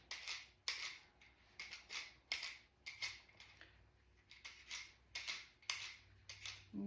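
Fresh ginger root is scraped with a peeler, producing a regular series of short rasping strokes, roughly a dozen in steady rhythm, close and fairly quiet with no talk.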